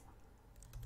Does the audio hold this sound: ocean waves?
no